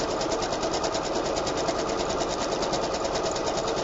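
A sewing machine runs a zigzag stitch on fabric at home, a steady, continuous fast rhythmic whirring and clatter that holds even and close throughout with no pauses.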